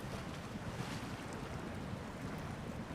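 A truck in the video game SnowRunner drives through river water, giving a steady, dense rushing wash of water and engine noise with no breaks.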